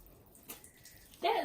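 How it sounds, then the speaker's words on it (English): Water suddenly splashes and spills across a desk while slime is being made, a loud wet burst near the end after quiet, faint room sound. "That is the sound of our water spilling everywhere."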